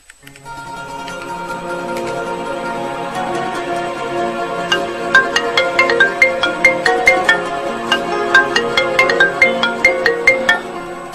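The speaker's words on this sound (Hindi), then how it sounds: "हम आज भाई को फोन कर रही हूँ।" A phone ringtone plays steadily, a looping electronic melody of bright repeated notes that grows more pronounced and rhythmic partway through, with no voices.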